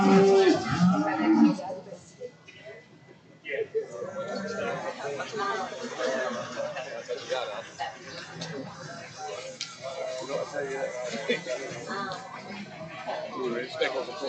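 Angus and Speckle Park cattle at a show ring low up amid a busy crowd, the bellows coming from a distance and mixed with steady chatter and voices throughout.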